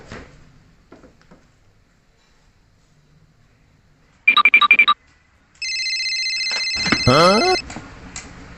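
A telephone rings in a Sundanese comedy sketch. A short burst of electronic beeps comes first, then a loud, steady synthetic ringtone with a warbling tail, set against a quiet room.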